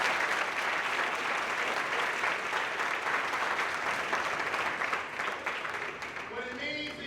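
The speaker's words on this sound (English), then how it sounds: "Come on, give me a round of applause." Sustained audience applause fills a youth town hall event, a dense steady wash of clapping from many hands that holds for several seconds before thinning slightly at the end.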